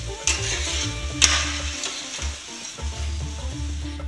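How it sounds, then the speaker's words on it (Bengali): Polao rice frying in oil over low heat, with a steady sizzle throughout and a couple of sharper scraping stirs, close and moderately loud with no voices. "এখন পোলার চালটাকে আমি অল্প আঁচে একটু ভালো করে ভেজে নিব"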